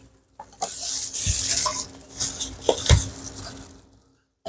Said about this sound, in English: So I'm going to put the garlic cloves in the jar.